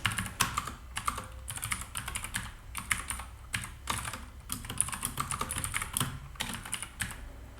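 Someone types on a computer keyboard, a steady run of close, crisp key clicks in quick bursts with brief pauses between words, with no voice over it.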